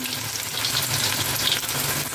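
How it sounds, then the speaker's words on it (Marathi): Steady, loud crackling sizzle of chopped onion frying in hot oil, heard alone without any talking. "तेल गरम झालेलं आहे तर मी यामध्ये 1 तेजपत्ता टाकून घेते आणि बारीक चिरलेला कांदा टाकून घेऊया"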